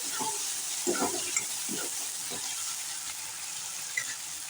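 Chopped tomatoes and curry leaves sauté for Gujarati-style batata poha, giving a steady close sizzle broken by several soft stirring scrapes.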